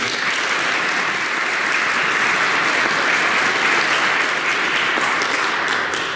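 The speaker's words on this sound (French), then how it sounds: "Je pense qu'on peut applaudir toute cette équipe." Congregation at a Catholic Mass applauding the parish team in church, a sustained even wash of many hands clapping with no talk over it.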